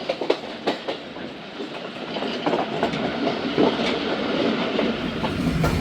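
Khyber Mail train running along the tracks, a continuous rolling rumble with a few sharp clicks and clacks early, then a steadier, slightly louder rush of rail noise, heard from on board.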